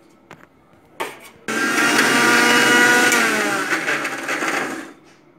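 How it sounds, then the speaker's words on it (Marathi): A kitchen mixer grinder whirs loudly, grinding dry coconut and onion masala in a sustained burst of several seconds after a few short clicks, then winds down and stops. "आता मी हे सगळं पुन्हा एकदा मिक्सरला लावून घेते"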